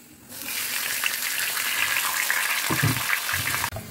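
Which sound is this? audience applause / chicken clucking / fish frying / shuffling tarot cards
fish frying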